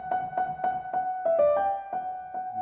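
Piano plays a Liszt theme up high in a major key, a short run of evenly spaced ringing notes with a steady, clear tone and no voices.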